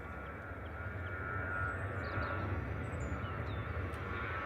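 Airliner departing Manchester Airport on a flight to Dublin, a faint, distant, steady engine roar that swells slightly midway, with small bird chirps above it and no talking.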